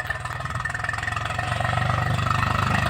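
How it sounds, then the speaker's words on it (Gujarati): A farm tractor engine rumbles steadily and close by as it arrives, a continuous low mechanical drone that grows slightly louder. No voices are heard. "આપણું ટ્રેક્ટર જો"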